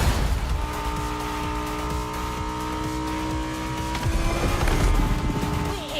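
A Bugatti Veyron and a Bugatti La Voiture Noire drive in The Crew Motorfest, a loud steady engine roar with tire squeal that swells near the end.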